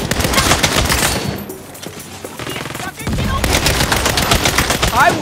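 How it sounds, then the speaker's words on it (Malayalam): Rapid automatic gunfire in Saints Row on PS5 rattles almost continuously, loud and close, with a brief lull midway before the shooting resumes. Voices talk over the shots. "Shoot until somebody talks. Okay, you want me to shoot?"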